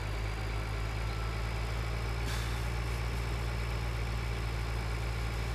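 A green tractor in Farming Simulator 2013 idles with a constant low, throbbing drone that pulses evenly and stays steady from start to finish, with no talk.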